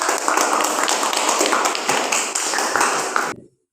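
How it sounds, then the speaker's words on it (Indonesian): Classroom applause from students for a presenting group in a chemistry lesson, a dense, steady wash of many hands clapping close by for about three seconds before cutting off abruptly. "Tepuk tangan untuk kelompok"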